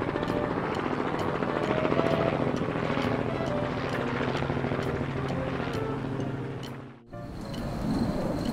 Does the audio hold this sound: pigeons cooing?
no